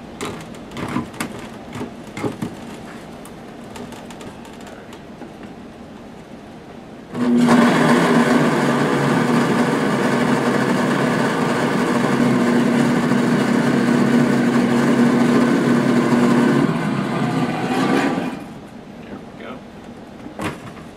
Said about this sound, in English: we're going to put a top on this blender.